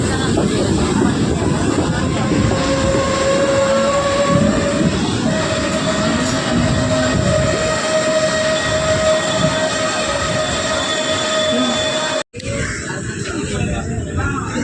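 A passenger train on the Rameswaram–Madurai line pulls out of Uchipuli station, a loud steady rumble with a sustained tonal whine from aboard, cut briefly by a sharp dropout near the end, with voices mixed in.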